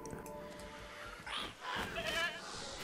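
A goat bleats in the video game Jurassic World Evolution 2, two drawn-out wavering bleats in quick succession over a soft ambient background, moderately close.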